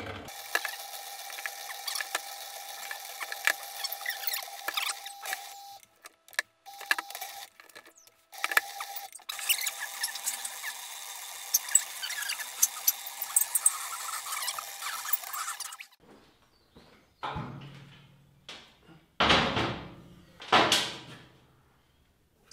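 A home-built pug mill grinds and ratchets as clay is fed through it, with squealing, clicking mechanical noise for about fifteen seconds. Then it stops, leaving quieter scattered knocks and scraping sounds.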